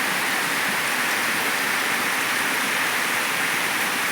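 Steady, heavy rain pours down on a farm with cattle without a break, a dense hiss of drops filling the whole scene with no voices.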